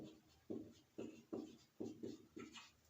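Marker or chalk writing names on a classroom board, a series of about seven short rhythmic scratchy strokes in quick succession, close and clear with no talk.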